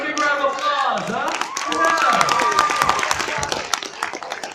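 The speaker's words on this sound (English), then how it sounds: "Give him a big round of applause" An audience at an MCM Manchester Comic Con Q&A breaks into applause, a swelling wash of clapping and a few cheers that follows vocal sounds and keeps going to the end.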